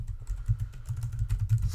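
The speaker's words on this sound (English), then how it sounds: "Come on, I'm typing iOS code here." Rapid, uneven key clicks on a computer keyboard, close and fairly soft, in short bursts with no voice over them.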